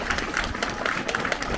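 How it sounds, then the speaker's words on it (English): A crowd claps for high-vis-bibbed volunteers at an outdoor junior parkrun, giving a steady, dense patter of applause that runs throughout at moderate volume. "round of applause to everybody in the high-vis bib"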